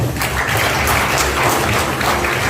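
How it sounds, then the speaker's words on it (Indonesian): Audience applause at an Anti Riba community business event: loud, dense clapping from a seated crowd, steady and continuous for the whole stretch. "Ya, tepuk tangan buat Bapak Ibu semua."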